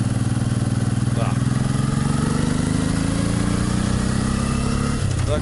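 Motorcycles ridden by local riders on a French country road drone loud and close in a steady, continuous engine hum, with the pitch shifting slightly near the end.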